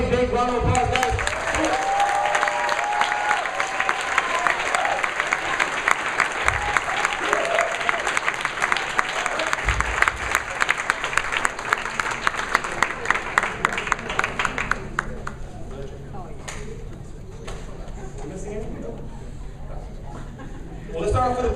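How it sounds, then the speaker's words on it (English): Sustained audience applause at a challenge party as directors come to the stage, a loud, dense wall of clapping and crowd noise with music underneath, lasting about fifteen seconds before dropping to scattered claps and voices. "Please come to the stage and big round of applause, guys."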